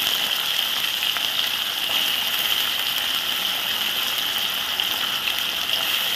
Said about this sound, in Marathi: आता पाणी मिसळून घालायचं